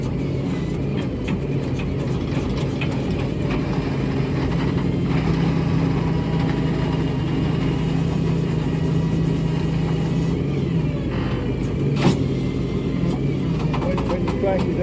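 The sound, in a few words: Allis-Chalmers HD6 dozer engine running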